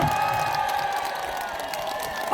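A crowd at a livestock market opening ceremony in Nonsan, South Korea, cheers and claps in a dense, continuous wash of sound, with scattered shouts rising within it.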